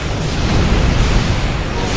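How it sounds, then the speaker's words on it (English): Dense, continuous rumbling blasts from space combat in the video game Star Trek Online, a steady loud barrage of overlapping explosions with no clear gaps and no speech. "Yay, lots of explosions."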